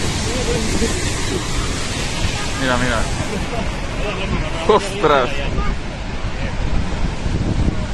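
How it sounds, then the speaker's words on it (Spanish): A river rushes past in a steady, loud broadband roar that fills the whole stretch, while someone speaks excitedly over it. "Mira qué río, chaval. Qué río."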